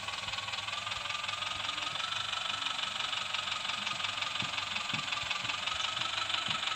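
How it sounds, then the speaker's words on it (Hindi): A fully green John Deere tractor idles in an Android driving game, its synthetic engine holding a steady, constant rumble with a faint knocking pulse, continuous and even throughout with no speech. "तो हमने ले लिया है John Deir tractor, fully green colour का ट्रैक्टर"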